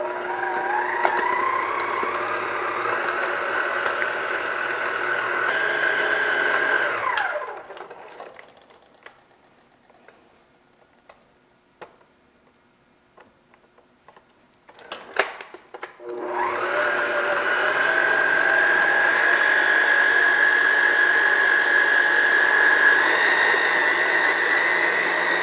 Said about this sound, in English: I'm just going to beat that until it's smooth